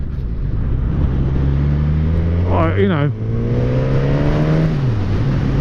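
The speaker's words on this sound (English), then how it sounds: "the engine's a little bit farty down bottom end" Suzuki GSX-S1000 motorcycle engine running with a rather rough, farty bottom end, a steady loud drone that rises in a brief rev and settles again, someone talking over it.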